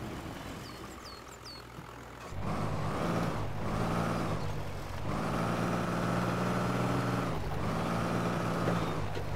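A 6x6 van with four-wheel steering grinds through mud in Spintires, its engine droning steadily and loudly, swelling in repeated surges as it pushes forward.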